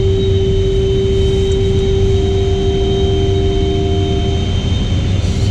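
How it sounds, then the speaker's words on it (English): A tow plane comes in to land, its propeller engine a loud, steady drone with a constant tonal hum and no voices over it. "Tow plane landing."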